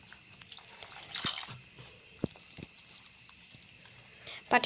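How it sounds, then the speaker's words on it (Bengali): Rice flour batter being stirred with water for pati shapta pitha in a home kitchen, giving soft, faint wet drips and a few brief splashy clicks, sparse and quiet. "চলো ভালো করে মিক্স করে নিই জল দিয়ে"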